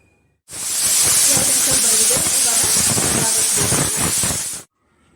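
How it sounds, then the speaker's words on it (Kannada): A kitchen pressure cooker holding vegetable rice vents its whistle, a loud continuous rushing hiss of steam lasting about four seconds, starting and stopping abruptly. "ಎರಡು ವಿಷಲ್ ತಗೊಳ್ತೀನಿ"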